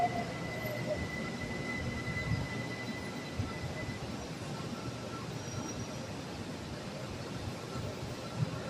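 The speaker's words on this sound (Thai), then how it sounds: "This train terminates at this station." A train standing at a station gives off a steady, even rumble and hum with faint high tones, droning on at a constant level throughout, with no clear voices.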